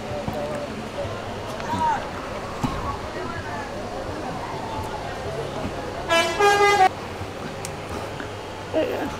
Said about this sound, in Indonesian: Ini ada dua bis ANS. Ada dua bis sumber yang sudah sampai.